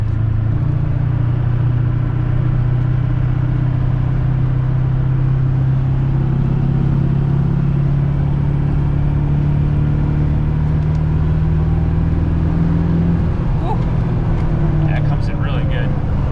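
A built Ford OBS 7.3L diesel truck with a big turbo accelerating onto a highway, its deep, sustained engine drone filling the cab while someone talks over it.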